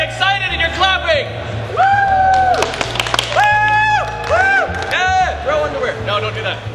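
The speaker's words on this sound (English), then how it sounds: "And you're very excited and you're clapping!" A festival audience at a history talk shouts drawn-out cheers of "yay" several times and claps, loud and close, with chatter and laughter mixed in between the shouts.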